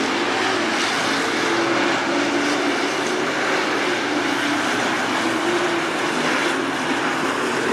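Race cars roar around the dirt oval at Attica Raceway Park, a dense, loud, continuous engine roar with no talk over it.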